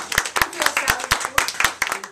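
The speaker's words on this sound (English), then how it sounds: "So can I have a round of applause for our actors?" A small audience claps for actors at a women's centre drama group sharing: a brief, close burst of roughly a dozen sharp, uneven handclaps with no voices.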